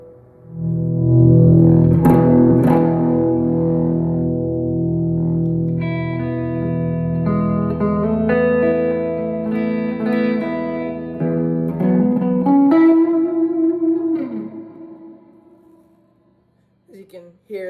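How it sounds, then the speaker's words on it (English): An electric guitar played through a Headrush Core modeler with ambient and 11 reverbs, sustained chords and single notes blooming into long, washy reverb tails that fade out near the end. "As you can hear, there's a lot of reverb there."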